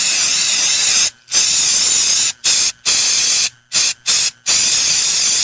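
Baygon Shield Defense insecticide sprayed from an aerosol can in a steady loud hiss, broken by several short gaps where the nozzle is released and pressed again, close and with no talk.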